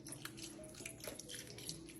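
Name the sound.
pouring vegetable broth into a pan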